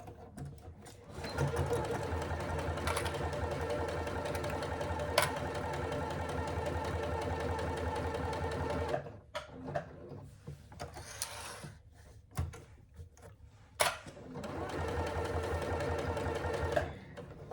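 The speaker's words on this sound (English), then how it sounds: "and then resume stitching along the other two sides, just to create a small pocket here" Sewing machine stitching a handbag, its steady motor hum running in long continuous bursts with short pauses between seams and a few sharp clicks during the gaps.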